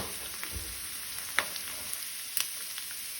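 Squid coated in semolina frying in hot oil, a faint steady sizzle broken by a few sharp spluttering pops.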